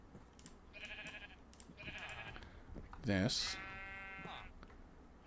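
Sheep bleating in a Minecraft server, several short bleats followed by a longer, louder bleat, heard close up while a person talks between them.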